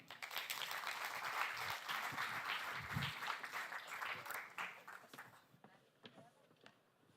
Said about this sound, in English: One more round of applause for our amazing speaker.